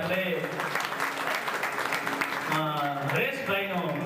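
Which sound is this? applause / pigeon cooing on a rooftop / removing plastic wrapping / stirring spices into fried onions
applause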